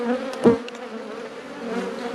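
Honey bees hum in a steady, close buzz around a beehive, with a brief soft knock early on and no talking.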